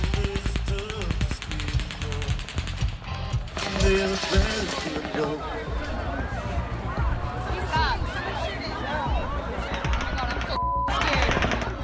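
Rapid bursts of gunfire crackle over a loud, chaotic crowd of 22,000 at the open-air Route 91 Harvest Festival concert, with shouting voices and commotion throughout.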